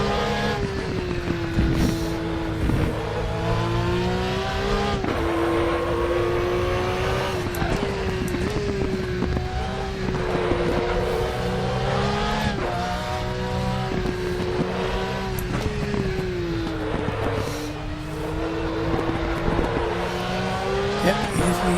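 Race car lapping Bilster Berg in RaceRoom, a loud engine whine rising and falling through repeated gear shifts, with brief tire squeal and steady high revving throughout.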